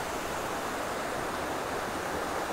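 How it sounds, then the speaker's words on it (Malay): Clear river flowing beside a campsite at Semungkis Survival Camp in Hulu Langat, a steady, close, broadband rush of water that holds even and unbroken throughout. "Okay, ni sungai dia."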